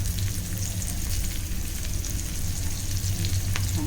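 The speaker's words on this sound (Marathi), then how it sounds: "छान परतून घेऊया" Chopped onion and garlic sautéing in a pan for a Malvani-style squid curry, with a steady, dense sizzle and frying crackle running unbroken and close throughout, no voices.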